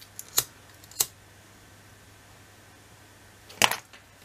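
Scissors cut paper for a Christmas scrapbook album: three crisp, close snips, two near together and a final longer cut after a pause, in an otherwise quiet room with no voices.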